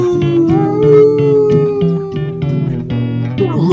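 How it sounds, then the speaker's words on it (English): Dogs howl in long, wavering drawn-out tones that rise and sag, loud and close, with short sharp sounds breaking in between the howls. "Let the dogs howl."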